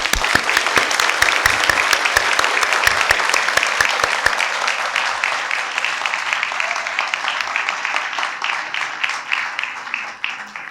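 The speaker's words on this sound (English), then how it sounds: "How about a round of applause for all these men?" Audience at a parish political forum for city marshal candidates giving sustained applause, dense clapping that fades gradually over about ten seconds.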